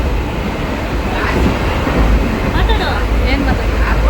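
A steady, loud rumble of a passenger train carrying riders toward Bengaluru, continuous rolling noise throughout with faint voices mixed in beneath the carriage din.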